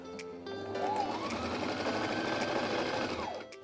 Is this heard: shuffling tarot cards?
no